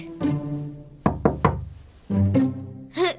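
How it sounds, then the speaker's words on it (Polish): Knocking on a bedroom wall in a children's cartoon: three quick, sharp raps close together mid-clip, set between short tonal voice-like sounds. "co to za pukanie słyszę?"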